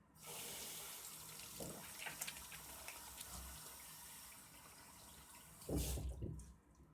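Cleaned food rinsed under a running kitchen tap, a steady close stream of water splashing into a sink with a louder gush near the end before the flow stops.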